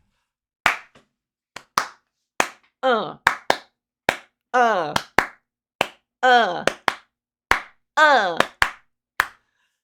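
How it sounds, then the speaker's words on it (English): Sharp hand claps in a steady, upbeat rhythm, close and crisp, with a voice vocalizing short grunting syllables between the claps. "That's the sound of happy claps."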